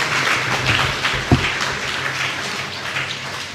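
Audience applause at a book launch, a continuous wash of many hands clapping at moderate level, with one sharp knock partway through.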